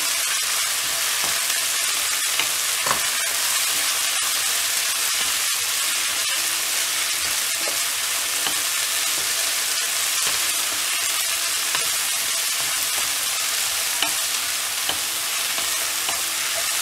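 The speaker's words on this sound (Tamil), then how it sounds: "இப்போது சின்ன சின்னதாக கட் பண்ணி வச்சுருக்க கொத்தமல்லி ஆட் பண்ணிவிட்டு இதை நல்லா எண்ணெயில் ஃப்ரை பண்ணிடலாம்" Chopped coriander fries in hot oil for a thovaiyal, a dense, continuous sizzle that holds level throughout, with faint clicks of stirring scattered through it.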